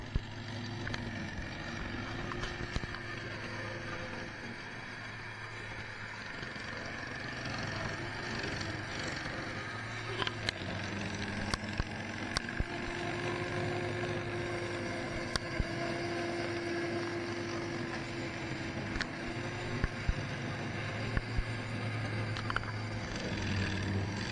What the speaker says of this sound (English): You can actually hear the engine slow down a little bit when I hit big thick areas